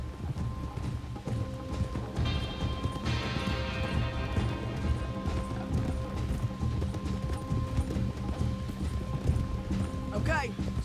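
Steady clip-clop of horse hooves plods along in a Red Dead Redemption 2 scene, with faint mechanical clinks and a short whinny near the end.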